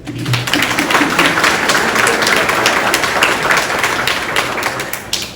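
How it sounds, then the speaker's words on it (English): Guests at a robotics team's end-of-year banquet applaud, a crowded, steady crackle of clapping hands that holds at full strength for several seconds before easing slightly at the end. "Let's give a round of applause."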